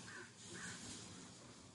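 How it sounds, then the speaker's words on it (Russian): A crow caws twice in quick succession, somewhat distant, against faint outdoor background noise. "какие-то птицы у нас порхают"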